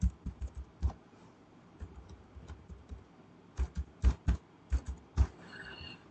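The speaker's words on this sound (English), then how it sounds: "Suppose I type mass training and solution." Keys on a computer keyboard tapped in short irregular runs with pauses between, each stroke a crisp close click over a quiet background, with no talking.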